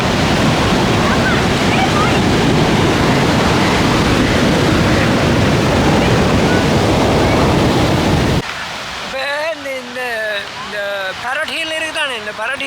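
Surf crashes onto the shore at a busy Sri Lankan tourist beach, loud and wind-buffeted for about eight seconds, then cuts to a quieter background under a voice talking.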